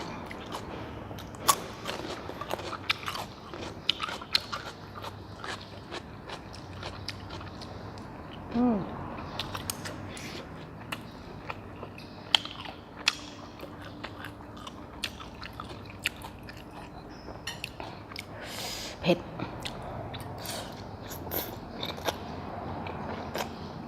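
Fried sausage is bitten and chewed close up alongside spicy Korean instant noodles, with soft crunches and wet mastication clicks scattered irregularly over a quiet room.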